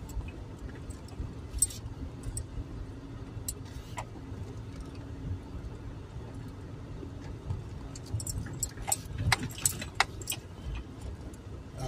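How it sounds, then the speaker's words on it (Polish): A fairly low car drives slowly over a rough stretch of road near a hospital in Zawiercie, its engine a steady low rumble inside the cabin while loose items jangle and rattle in irregular bursts as the suspension takes the bumps. "Tutaj teraz będę wjeżdżał w odcinek, który no jest testem dla zawieszenia."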